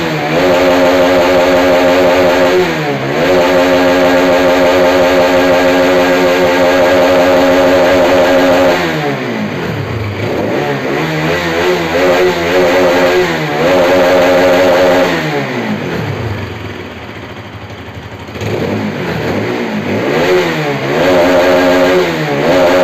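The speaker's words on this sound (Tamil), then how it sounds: "வண்டி எதுவும் அடைக்கலை, ஃபுல் த்ராட்டில் ஆகுது" A Bajaj RS200 motorcycle engine revs hard at full throttle up close, loud repeated surges that climb and drop back toward idle several times over a steady mechanical drone.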